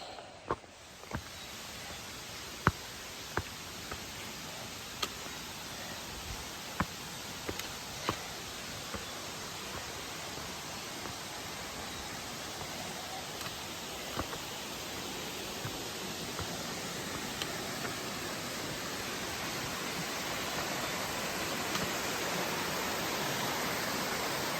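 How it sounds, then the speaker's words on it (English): Beaver Brook's waterfalls along the trail on Mt. Moosilauke rush in a steady, broad roar that fills the whole clip, with occasional faint clicks and taps above the constant flow. "The trail follows this Beaver Brook all the way up along these waterfalls"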